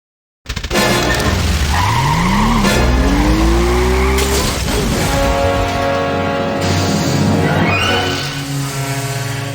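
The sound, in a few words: car driving off in video game Goodbye Deponia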